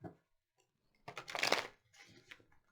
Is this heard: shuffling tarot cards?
yes